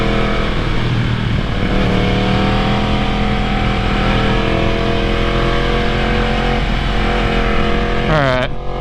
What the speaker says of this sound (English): the exhaust on this thing sounds amazing